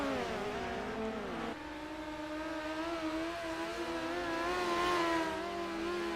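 Midget race cars lap a dirt track in a pack, several engines droning loudly with steady high revs and occasional swells as cars pass close by.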